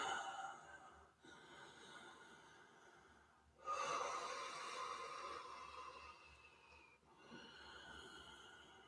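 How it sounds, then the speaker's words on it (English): Slow, audible Ujjayi breaths during a Forrest Yoga class, soft and close, with long drawn inhales and exhales separated by brief pauses and no talking. "you and the Ujjayi breathing."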